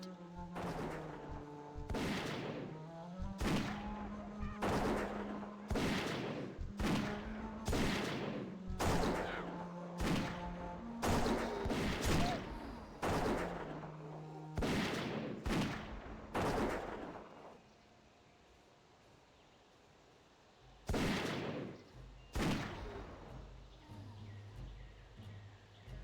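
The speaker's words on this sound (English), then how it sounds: "But not before shooting a few orcs in the head." Gunshots in World of Warcraft: Mists of Pandaria crack sharply in a rapid, irregular string of loud reports, stopping for a few seconds before two more shots ring out near the end.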